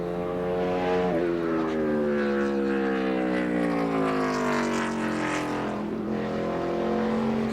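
A Gen 4 NASCAR stock car engine howls through a qualifying lap, loud and close, its steady drone sliding downward in pitch as the car passes, with a brief lift before the tone rises and falls again.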